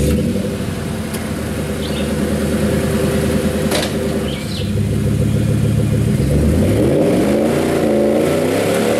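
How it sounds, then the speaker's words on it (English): A truck on Firestone Destination M/T 2 mud-terrain tires revs and spins in mud to fling it from the lugs, engine droning steadily then rising and wavering in pitch, loud and close. "let you see me clear the mud out of the lugs and throw some mud"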